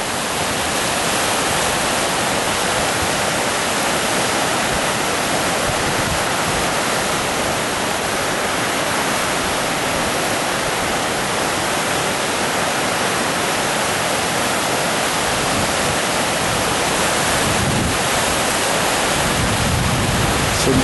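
Loud, continuous rushing water roars steadily like a fast river current, a dense unbroken wash of noise with no voices.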